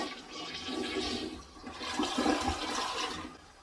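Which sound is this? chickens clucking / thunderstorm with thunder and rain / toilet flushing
toilet flushing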